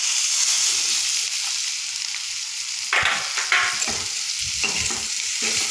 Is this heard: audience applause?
no